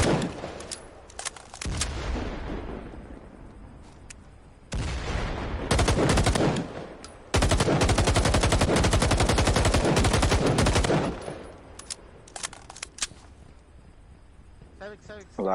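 Gunfire from an alley during a team shooter match, with loud sustained bursts of rapid automatic fire and sharp shots that start and stop abruptly. Quieter stretches fall between the bursts.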